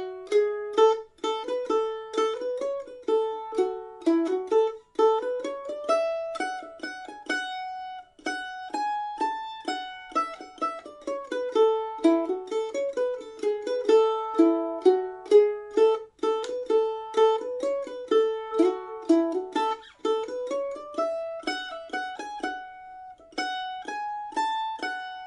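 Solo mandolin picks the A part of the fiddle tune Cherokee Shuffle, a quick, steady stream of bright plucked notes rising and falling in runs for about twenty-five seconds, clear and close with no talking.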